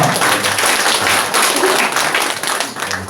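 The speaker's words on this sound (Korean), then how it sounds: "다시 한번 큰 박수 부탁드리겠습니다" An audience claps steadily for the mayor at a town briefing in Namwon, a dense, fairly loud and even round of applause lasting throughout, with a faint voice underneath.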